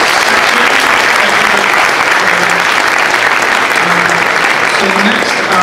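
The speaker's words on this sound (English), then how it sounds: "let's give a round of applause for all the presenters for this." A tech meetup audience applauds the presenters with dense, loud, sustained clapping that holds steady from start to finish, the crowd filling the room with an even wash of hands.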